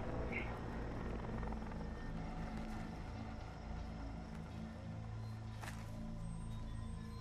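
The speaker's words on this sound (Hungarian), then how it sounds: "Egy helikopter hangját halljuk." A helicopter in the video game Far Cry 3 drones steadily throughout with a deep rotor hum and a constant low engine whir, loud and unbroken, with no talking over it.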